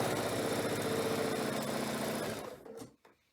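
A sewing machine stitching fabric pieces into a quilt diamond block, a loud, steady mechanical whir that runs for over two seconds and then winds down to a stop, followed by a short rustle.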